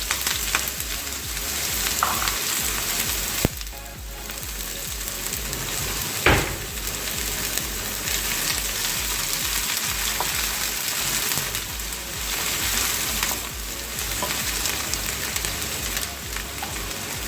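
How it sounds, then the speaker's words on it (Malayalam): Chopped onions sautéing in hot oil, a steady dense sizzle that holds for the whole stretch, close and fairly loud, with one brief louder clatter midway and no talking. "അതിലേക്ക് നമുക്ക് ഈ അരിഞ്ഞു വെച്ചിരിക്കുന്ന സവാള ഇട്ടൊന്ന് വഴറ്റിയെടുക്കാം."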